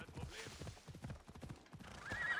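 Horse hooves clip-clopping as the mount climbs rocky terrain in the video game Assassin's Creed Odyssey: rapid, uneven hoofbeats close up, with a whinny and someone talking over them.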